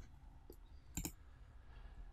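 Computer mouse clicks while a beam is drawn in RISAFloor structural software: two quick, faint clicks close together, plus a softer earlier click, over a low hum of room noise.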